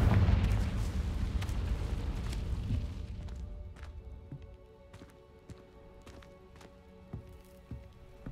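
Confringo fire spell blasts in the Hogwarts Legacy video game, a loud rumbling burst that decays over a few seconds, then scattered sharp crackles and pops continue quietly.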